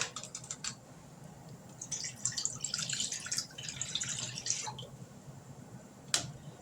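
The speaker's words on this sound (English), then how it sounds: "And we're going to go ahead and pour this juice in here." White grape peach juice pours into a pot for jelly, a light splashing trickle that comes in bursts and runs steadily for a few seconds before ending with a sharp clink.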